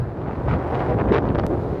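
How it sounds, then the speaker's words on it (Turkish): Strong wind roars and buffets the microphone continuously at Balıklıova, Turkey, a dense rumbling blast with no pauses and no voices. "Rüzgar çok fazla."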